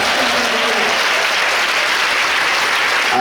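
A large church congregation applauds in a dense, loud, continuous wash of clapping that holds steady throughout, with no distinct speech over it.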